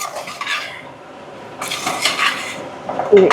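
Chicken stirred with masala, ginger and onion in a cooking pot for biryani, giving intermittent scraping and clinking bursts of a utensil against metal with faint sizzling beneath.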